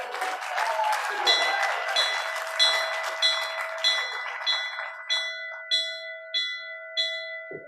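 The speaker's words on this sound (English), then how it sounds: "I'd like to ring the bell 3 times." A bell rung repeatedly at a Rotary club meeting, roughly ten bright evenly spaced strikes, each ringing on and overlapping the next, with a hint of crowd noise behind.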